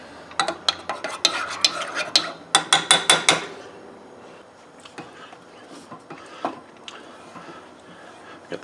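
A spoon clicks and scrapes rhythmically against a bowl while peanut butter is stirred into a sweet soy satay sauce. The strokes are loud and quick at first, then become softer and more scattered.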